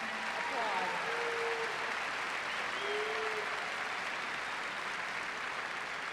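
An audience applauds at a high school graduation ceremony, a steady wash of clapping that holds at an even level for several seconds, with a faint voice briefly heard beneath it.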